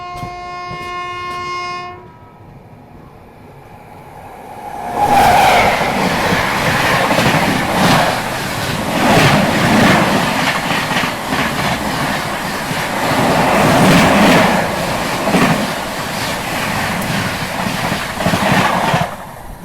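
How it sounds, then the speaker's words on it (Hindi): The Barmer Howrah Superfast Express passes close by on the opposite track after Khurja Junction in India. A horn blast sounds first, and then a loud, sustained rushing roar with rhythmic clattering from the wheels runs alongside. "बाड़मेर हावड़ा सुपरफास्ट एक्सप्रेस फिलहाल अपनी क्रॉसिंग हुई है खुर्जा जंक्शन के बाद।"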